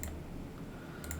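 Java code being typed on a computer keyboard, with quick faint key clicks near the start and again near the end and a steady low hum between them.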